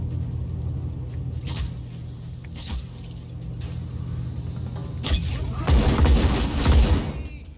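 A cluster bomb detonates in Just Cause, with rapid crackling bursts over a rumbling vehicle engine, then a dense, heavy blast and roaring rumble building near the end, loud and close.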